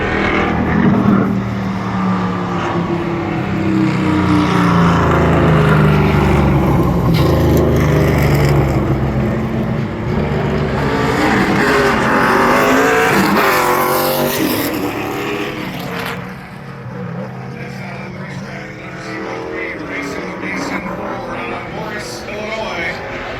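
An ARCA Menards Series race car on a qualifying lap at Berlin Raceway roars loudly past, its engine pitch climbing and then sweeping down as it moves away into a fainter drone, with a voice faintly present.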